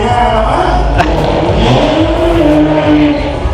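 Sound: drag racing car engine revving

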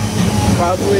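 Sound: freight train

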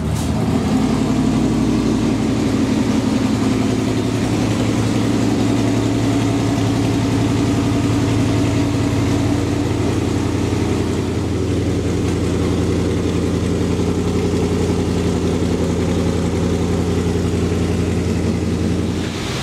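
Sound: car engines idling

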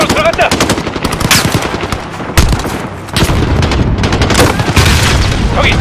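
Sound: gunfire in video game Call of Duty Modern Warfare

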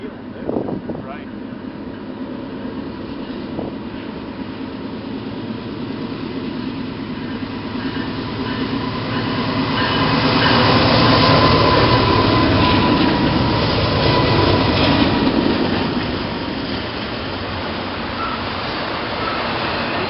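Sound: locomotive engine with turbochargers running, coming downhill

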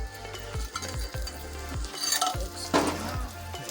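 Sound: sautéing masala for raw cashew nut curry in a pan

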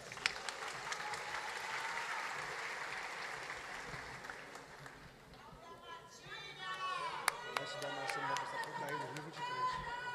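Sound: applause

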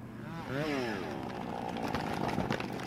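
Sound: saw cutting a large tree

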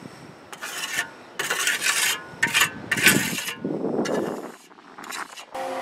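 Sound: trowel applying cement on a ferrocement house

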